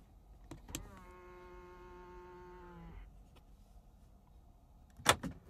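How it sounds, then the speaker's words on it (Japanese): Electric door mirrors folding on a 2020 Mitsubishi Outlander PHEV: a short click, then a steady whirring motor hum for about two seconds ending in a thunk, a further clack closing the sequence, with no talk. "ドアミラー格納スイッチです。"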